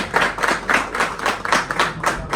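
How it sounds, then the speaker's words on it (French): Applause rises at a ministerial installation ceremony, a cluster of hand claps pulsing in uneven bursts, fairly near and clear, with no speech over it. "Mme Line Octavius, sous vos applaudissements, Madame, Monsieur."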